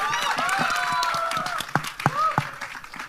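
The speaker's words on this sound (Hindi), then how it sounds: "ऑन गाइस, जोरदार ताली होनी चाहिए।" Crowd applause at a Border 2 premiere party, clapping blended with whoops and cheering voices, lively and close, with a few sharper claps near the end.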